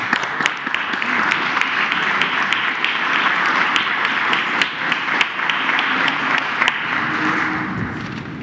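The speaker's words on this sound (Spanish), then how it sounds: "Un aplauso." Applause from an audience at a Mexican government event on the minimum wage increase, with sustained dense clapping running steadily throughout, a few louder individual claps standing out, and faint voices underneath.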